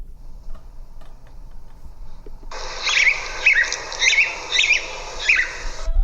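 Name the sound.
played recording of a bird song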